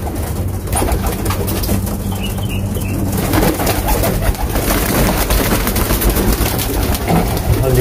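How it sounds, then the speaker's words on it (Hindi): Caged pigeons coo and shuffle, with occasional wing flaps, including a pigeon from Cuttack. The steady, close, fairly loud murmur sits over a broad background hiss, with no talking. "ये बैठे हुए हैं कबूतर"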